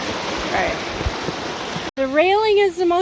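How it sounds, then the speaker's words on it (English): A rocky waterfall and stream rush with a steady broadband wash for about two seconds, then a nearby voice speaks over the water noise. "Oh, the waterfalls. Very, very rocky."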